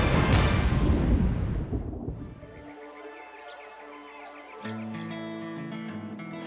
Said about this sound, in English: Can we talk about that storm?